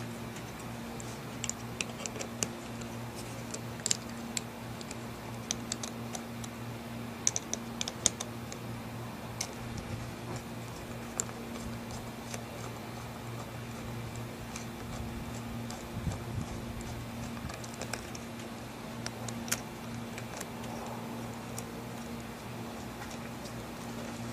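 Small screws are fitted one by one into a BMW 5HP19 automatic transmission valve body, making faint irregular metallic ticks and clicks spread over a quiet background hum, no talking.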